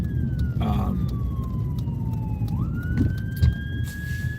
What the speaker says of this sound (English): that was a freaking ambulance going by